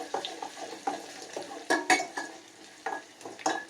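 Curry leaves, cumin seeds and black pepper fry in a pan of hot fat for pongal, a soft sizzle under repeated clinks and scrapes of a ladle stirring against the metal pan, close up and without voices.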